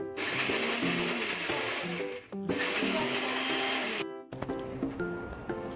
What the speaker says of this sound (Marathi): त्यात थोडा लसूण आलं कोथिंबीर घालून मिक्सरमधून गरारा फिरवलं